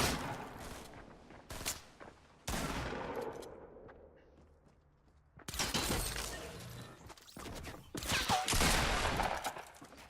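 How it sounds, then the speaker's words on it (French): Shotgun blasts in the video game Fortnite, several loud broadband bursts at irregular intervals with decaying tails between them, with no talk over the shots. "J'entends un fusil à pompe."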